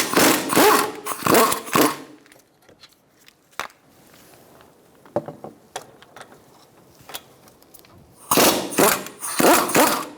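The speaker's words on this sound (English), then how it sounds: "I'm going to use a 17mm socket and take out these bolts that are holding my caliper on." Caliper bolts on a Kia Soul loosened with a 17mm socket, heard as bursts of loud ratcheting at the start and end with scattered clicks and metallic taps in between.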